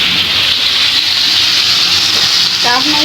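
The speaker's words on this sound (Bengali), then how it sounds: "আর এখানে মুরগিগুলো ভাজা ভাজা করতেছি" Loud, steady sizzling of chicken frying in a hot pan, with a brief voice near the end.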